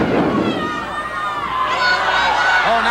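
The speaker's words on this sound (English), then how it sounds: "Crowd is yelling, careful, careful." A large crowd yells and roars continuously at a 1987 pro wrestling match, loud and close, with a commentator's voice mixed in over the noise.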